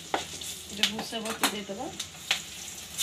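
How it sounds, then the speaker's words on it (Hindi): Vegetables fry lightly in butter and oil for upma, a soft sizzle with sharp stirring scrapes and clinks recurring through the pan, as someone speaks briefly over it. "ये सब हल्का फ्राई कर नेबा"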